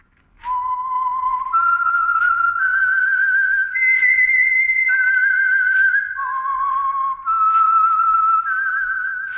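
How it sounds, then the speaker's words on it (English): A clear, loud whistled melody of sustained, gliding notes forms the theme signal of the radio drama The Whistler, heard alone for about nine seconds. "That whistle is your signal for the Signal Oil Program, The Whistler."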